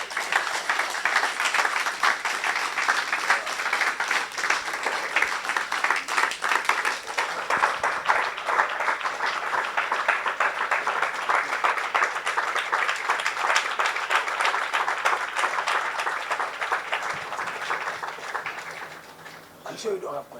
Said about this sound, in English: A round of applause one more time for Kwaku Sakyi-Addo.